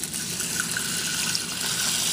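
Purified water pours steadily into a saucepan for elderberry syrup, a continuous splashing gush that stays even and fairly close throughout.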